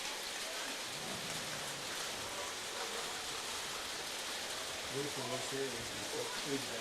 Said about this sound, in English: with the rain continuing to fall